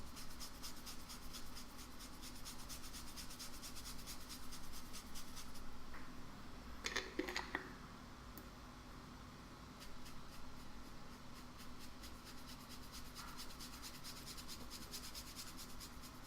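Pencil texture on thin drawing paper being blended by rubbing, a soft continuous scratchy swishing in steady back-and-forth strokes, close and quiet over faint room hum, with a brief louder rustle midway.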